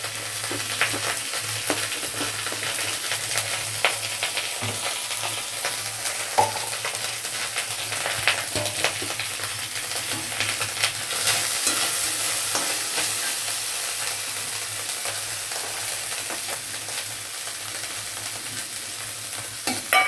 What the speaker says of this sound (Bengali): তবু আমি একটু কষায় নিলাম যে কাঁচা গন্ধটা না থাকে